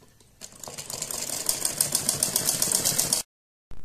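A sewing machine stitches the fold of a sleeveless baby dress, a fast steady whirring rattle that builds up and runs for about three seconds before stopping abruptly, close and alone.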